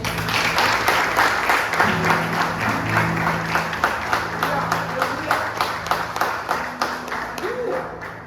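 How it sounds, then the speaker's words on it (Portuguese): Church congregation clapping together during a Portuguese-language evening service, a steady dense patter of many hands filling the room, with brief voices and tones mixed in beneath. "vamos aplaudir a palavra de Deus."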